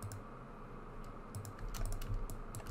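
Computer keyboard keys tapped at a steady typing pace while working in Blender 3D software, soft close clicks clustering faster near the end, with no talking.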